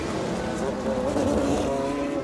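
GT race cars at the Spa 24 Hours, including a Maserati putting a lap on the number 77 car, roar past in a sustained, fairly loud blur of engine noise with shifting pitch.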